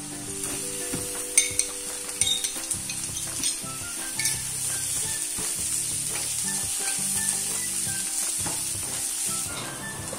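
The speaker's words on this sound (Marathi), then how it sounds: "आता हा कांदा तेलावरती परतून घ्यायचा आहे" Chopped onion with curry leaves sizzles in oil for sevai upma, a continuous close frying hiss with a spatula scraping and stirring in uneven strokes, and no talking.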